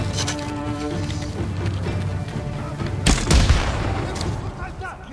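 A sudden explosive arrow blast in Ghost of Tsushima bursts out midway over game background noise, followed by rumbling debris and a few smaller bangs.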